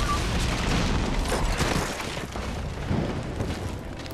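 A tank in the video game Uncharted 2 fires amid explosions, producing a dense, roaring wall of blasts and booming bursts that rise and fall in loud waves and stay close.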